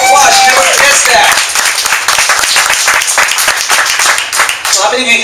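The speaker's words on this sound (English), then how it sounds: "Give Liz King a big round of applause." A room full of people at a San Jose networking meetup gives a loud, sustained round of clapping and cheering for a speaker, close and full for about five seconds, with voices calling out over the applause.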